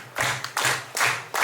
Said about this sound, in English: Can you clap to that beat?